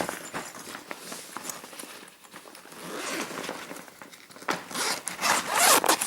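Someone works open the zips on the middle pouch of a riding equipment bag, giving repeated close zipper rasps and rustling fabric, with the scraping getting louder near the end.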